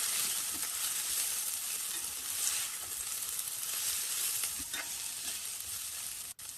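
Green chillies, turmeric and curry leaves fry in a hot pan with a steady, close sizzle that runs the whole time, broken only by a brief clunk near the end.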